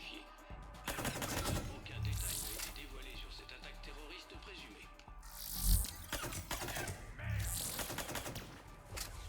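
Several bursts of rapid gunfire from the video game Mass Effect 3 erupt in loud clusters, mixed with game effects, and a voice talks between the volleys.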